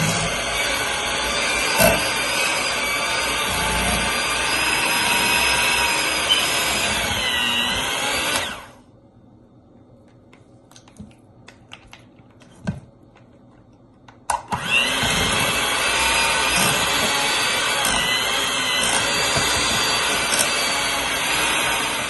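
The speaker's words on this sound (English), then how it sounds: "I'm gonna be using my mixer on low just to combine the sugar." An electric mixer runs on low, blending cream cheese and granulated sugar for a pineapple upside-down cheesecake, whirring loudly and steadily, then stopping for a few seconds of quiet clinks before starting up again at the same level.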